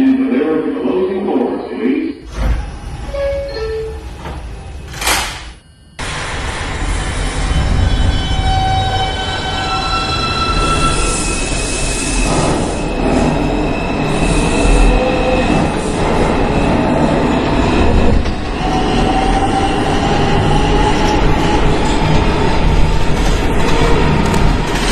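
An R142 subway train running on the IRT 5 express line between Brooklyn Bridge and New Lots rumbles steadily with rattling wheels and faint squeals, after a brief quieter moment near the start.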